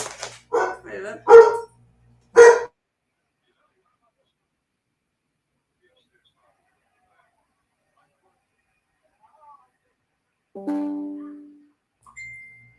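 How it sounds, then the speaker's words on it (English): A dog barks a few sharp times at the start in a home kitchen where chicken breasts are being breaded for dinner, then a long quiet gap before someone speaks briefly near the end. "Darn dog."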